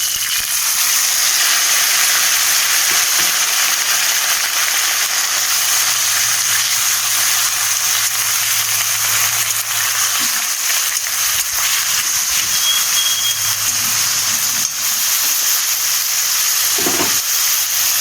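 Onion paste fries in hot oil for a Bengali crab curry, giving a loud, steady sizzling hiss that runs unbroken for the whole stretch, with faint stirring and clatter in the background.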